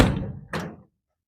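A drop-down compartment door on a 2018 Ram 5500 bucket truck swings shut with a solid thunk, followed by a second closing bump, then silence.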